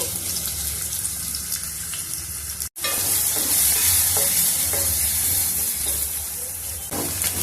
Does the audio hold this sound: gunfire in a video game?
no